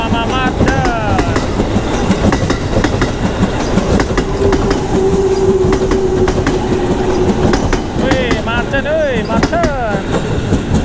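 A train rumbles past close by, wheels clacking rhythmically over the rails, with metallic squeals and a long horn-like tone mid-pass.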